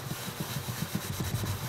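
A Scotch-Brite pad scrubs a greasy pan coated with Easy-Off oven cleaner in quick, steady back-and-forth strokes, a close, rhythmic rasping with no talking.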